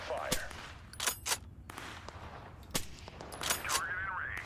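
Bolt-action Kar 98 and Carcano rifles firing in the war game Total Conflict: Resistance, a handful of sharp separate shots spaced irregularly over a busy battlefield bed with some game voice sounds mixed in.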